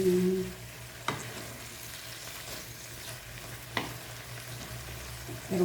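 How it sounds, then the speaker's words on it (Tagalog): Kangkong with tofu and fried pork being stir-fried in a pan, a steady close sizzle with two sharp utensil scrapes as the food is stirred. "Haluin natin. Haluin."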